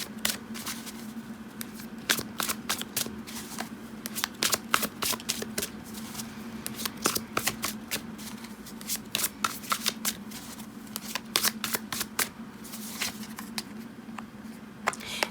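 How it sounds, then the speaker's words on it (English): Tarot cards being shuffled and handled during a pick-a-card reading, crisp close riffling and flicking in irregular bursts over a steady low hum, with no talking. "Let's take the next card."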